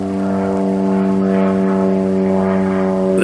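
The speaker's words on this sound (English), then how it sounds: "There's an aerial plane." A propeller airplane flies over near a small municipal airport in Bell Buckle, Tennessee, a steady droning engine hum with strong harmonic tones that holds loud throughout.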